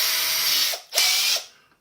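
A power drill whirring loudly while a 3mm bit is swapped in during installation of an ADJ Mega Tripar Profile light, running in two close bursts with a brief stop between, then spinning down.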